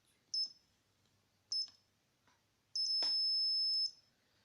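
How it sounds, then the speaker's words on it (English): A buzzer on an ultrasonic radar security keypad sounds after a wrong code is entered: two short high beeps followed by one longer sustained tone, clear and alone in a quiet room. "if anyone enters any wrong code, it will show access denied and the buzzer will beep up"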